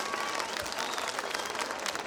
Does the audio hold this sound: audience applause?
yes